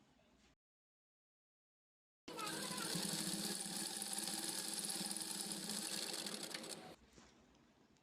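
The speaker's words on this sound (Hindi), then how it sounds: "अब इसे हम एक साइड पे फोल्ड करेंगे, इस तरह से फोल्ड करेंगे और इसे दाब सिलाई लगा लेंगे।" A domestic sewing machine top-stitches folded elastic in one continuous, fast, rattling run of about five seconds. It stays close and loud and is framed by near silence before and after.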